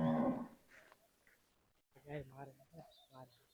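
A cow moos briefly at the start in a cow shelter, followed by quiet and then nearby people talking.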